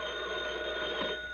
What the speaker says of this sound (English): 3 long rings. That's the fire alarm.